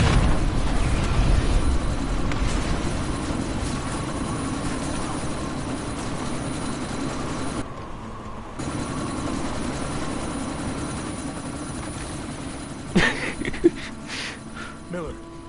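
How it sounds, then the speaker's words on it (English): Helicopter rotor drone from the video game Deus Ex: Mankind Divided, a steady loud chopping roar through most of the stretch with a brief dip, over game sound effects and sandstorm wind, with speech mixed in. "you need to disable that chopper"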